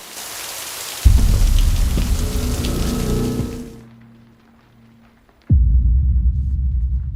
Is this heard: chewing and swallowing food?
no